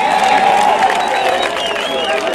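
Crowd at a Kirinyaga political rally applauding and cheering loudly and continuously, a dense wash of clapping and voices with a steady roar throughout.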